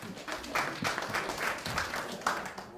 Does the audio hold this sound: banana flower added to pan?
no